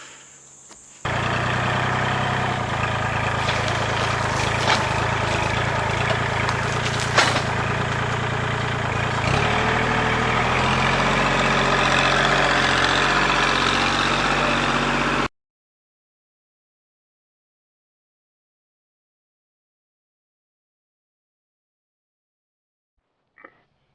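A tractor engine runs at idle, a low continuous rumble with a rattling texture, cutting off abruptly and leaving silence except for a faint click near the end.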